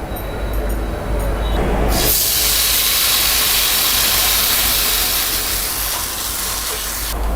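Dosa batter poured onto an oiled, hot dosa griddle sets off a loud, steady, broadband sizzle that swells at about two seconds and holds through the end, with no talking.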